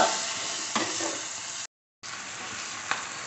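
Hot oil sizzles and crackles steadily around spices tempering an eggplant curry, broken by a brief silent gap before the frying hiss resumes.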